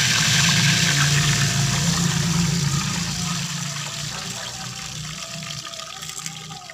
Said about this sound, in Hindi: अब हमने घी गर्म कर लिया, इसमें डालेंगे पानी